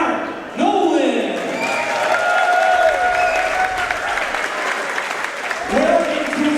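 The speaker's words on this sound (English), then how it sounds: "Ladies and gentlemen, how about a round of applause for the one and only, the incomparable Art Nolan" An audience at a fight show breaks into loud applause and cheering for Art Nolan, a nonagenarian regular, with shouts rising over dense clapping that carries on for several seconds.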